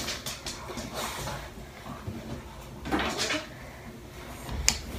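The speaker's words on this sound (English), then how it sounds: "I just think I'm gonna close that door." A door is pushed shut indoors during a dog grooming session, a muffled thud and rattle amid rustling and handling noise, with a sharp click near the end.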